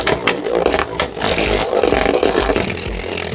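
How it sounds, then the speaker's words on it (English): A Beyblade Super Hyperion spins in a plastic stadium, giving a continuous scraping, whirring clatter with sharp knocks as it rides the edge, close and steady throughout. "First, a test spin with Super Hyperion. 3, 2, 1, let it rip!"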